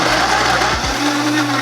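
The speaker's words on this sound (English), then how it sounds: "All you have to do now is blend it up" A blender blends raw gluten-free gingerbread cookie dough with dates, giving a loud, steady, close whir for a brief stretch.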